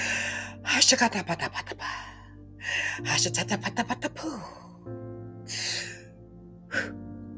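A person taking deliberate deep breaths, long rushing inhales and exhales in several slow cycles, close and fairly loud, with sustained tonal background music underneath.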